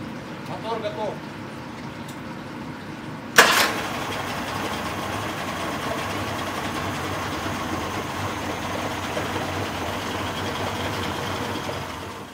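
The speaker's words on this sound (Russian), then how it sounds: "Холостые обороты двигателя на нейтральной передаче должны быть примерно 900." Tohatsu 50 outboard motor, freshly rebuilt, idling in neutral: after a sharp start, a steady low engine drone runs on evenly at moderate loudness for the rest of the clip.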